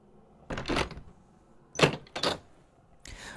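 A front door being answered and opened indoors: a few close thuds and clunks of the latch and door, spaced apart, with quiet room tone between them.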